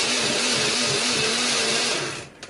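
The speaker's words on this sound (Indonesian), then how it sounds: "Kemudian kita haluskan menggunakan blender." Blender running steadily at high speed, grinding chopped tomatoes with spice paste and a little water or oil, loud and continuous with a low rhythmic pulse, then winding down and stopping near the end.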